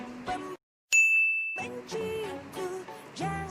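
Notification bell ding sound effect: a single bright, sustained chime rings out clearly after a brief silence, then fades as music continues underneath.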